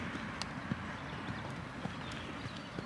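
A horse cantering in an arena during an eventing session, its hoofbeats thudding in a steady three-beat rhythm on soft footing, fairly close, with no talk.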